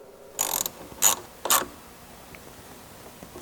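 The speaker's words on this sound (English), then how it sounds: "with the 5/16 socket, we're going to go ahead and tighten up the filter" A ratchet with a 5/16 socket tightens a clamp on the air filter of a cold air intake on a 5.7L or 6.1L Dodge, sounding as three crisp, separate bursts of close clicking with quiet pauses between them.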